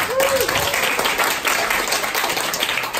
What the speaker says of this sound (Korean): 박수 한번 치셔야 돼요.